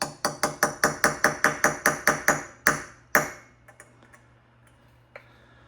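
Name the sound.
hammer tapping a pin punch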